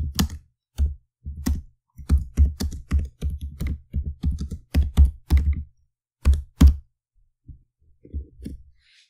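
Close typing on a computer keyboard: quick bursts of crisp key clicks with brief pauses, thinning to a few scattered taps at the end, with no talk.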